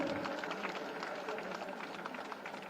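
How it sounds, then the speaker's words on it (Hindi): Faint audience applause at a government award ceremony in Gorakhpur, India, a steady patter of many hands clapping at a distance, fairly uniform across the short span. "एक जोरदार तालियां इस क्षण के लिए"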